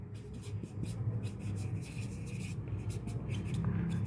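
Chalk taps and scrapes on a board during a class 8 physical science lesson, in quick repeated strokes in short bursts, faint against room noise.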